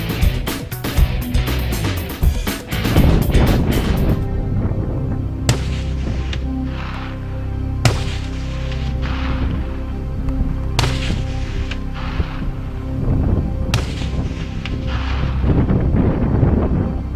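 Rifle shots ring out during a Newfoundland moose hunt, several loud sharp cracks spaced seconds apart, each trailing off in an echo across open ground, with wind buffeting the microphone.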